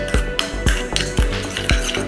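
Aloe vera gel and other foot-cream ingredients being stirred together in a bowl, with a steady rhythm of about five firm scraping strokes, close and fairly loud, with no talking.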